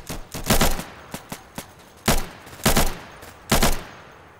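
An SKS rifle fires in Insurgency: a string of sharp, close gunshots in uneven rhythm, a few quieter pops followed by several loud separate cracks, with no talking.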